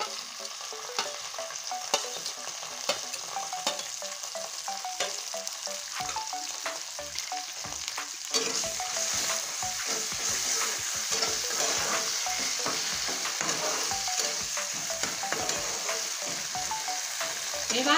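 Garlic, chili and cumin fry together in a hot pan while being stirred, giving a steady, close sizzle laced with scraping strokes that grows louder and busier about halfway through.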